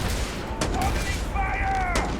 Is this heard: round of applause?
no